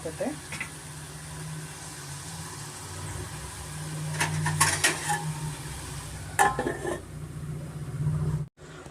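Tomato fries in oil over a medium flame for a tomato kurma side dish, with a steady soft sizzle and a few light clinks of a utensil on the pan, under continuous talking.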